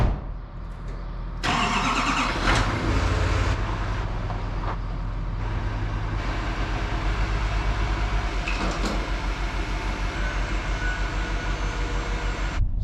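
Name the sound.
truck backing up a fuel trailer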